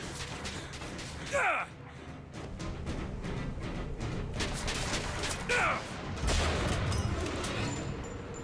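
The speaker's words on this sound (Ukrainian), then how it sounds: "Звідки стріляють?" Sharp bursts of gunfire crackle in rapid succession over continuous game noise in Bioshock Infinite, with a couple of whooshing streaks and a heavier boom near the end.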